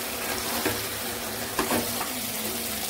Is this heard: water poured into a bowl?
yes